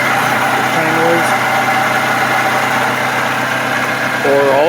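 A noisy water pump on a 2011-2016 Scion tC 2.5L four-cylinder engine gives a steady rotating whir and hum over the idling motor, loud and close throughout, with a few faint tonal whines.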